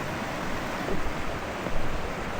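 Waves break against rocks on the Wonderland Trail with a steady broadband roar that swells in a few louder surges. There is no talking.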